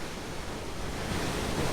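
Waves surge through a rock gap on the Madeira coast, a continuous broad wash of churning water and spray, steady and moderately faint, with no voices.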